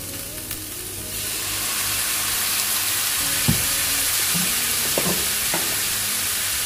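Vegetables sautéed in a pan with soy sauce give off a broad, steady sizzle. A few sharp knocks and scrapes from stirring cut through it, and no one talks.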